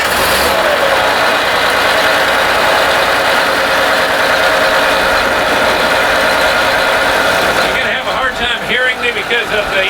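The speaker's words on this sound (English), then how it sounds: "let you see the engine start, and we'll go from there." The engine of a custom NASCAR bus runs at a loud, steady idle with a rough mechanical throb, and its tone shifts near the end as a voice talks over it.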